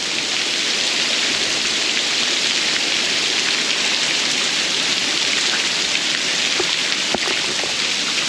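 Steady rain falls around the residence buildings of Gyeongbokgung Palace, a continuous even hiss of drops throughout with occasional closer patters.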